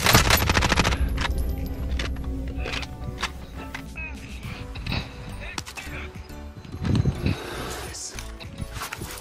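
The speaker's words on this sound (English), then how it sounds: "Who's shooting me?" Automatic weapon fire in a Call of Duty Warzone match, dense rattling bursts and scattered shots filling the whole stretch, loud and close, with game effects mixed in.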